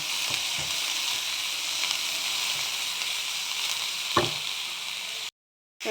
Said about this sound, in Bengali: এগুলো সব আমি একটু সটে করে নেব।